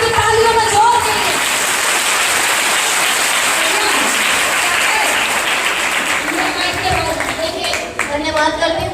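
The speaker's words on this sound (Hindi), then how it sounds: "आपकी तालियों में जोर देंगे" A church congregation at a prayer meeting in Agra claps loudly and continuously, a dense wash of many hands close by, with voices and speech mixed in beneath the applause.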